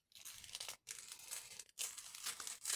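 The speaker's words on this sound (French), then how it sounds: "il faut j'arrive à l'ouvrir sans abîmer sa belle enveloppe qui est magnifique" A decorated paper envelope being carefully opened. It gives close, crisp crinkling and tearing in three bursts, each separated by a brief silence, with no talking.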